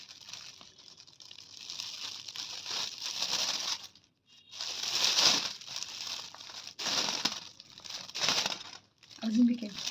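A plastic bag crinkles and rustles in steady bursts as blanched peas are packed into it for freezing, with a brief pause midway and a soft voice underneath toward the end.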